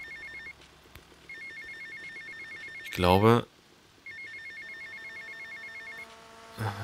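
A telephone rings in a repeating electronic trill in the GTA Vice City mobile game, two stretches of ring with a burst of speech in between and a short spoken line at the end.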